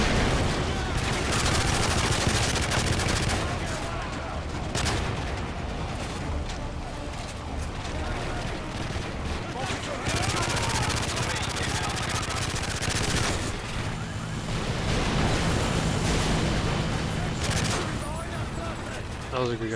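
Dense gunfire from the Call of Duty MW3 campaign, with rapid automatic bursts and booming shots layered over explosions and game noise, loud and nearly continuous across the scene.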